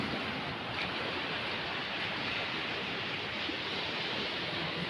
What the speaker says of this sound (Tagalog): Oh, humahampas yung alon.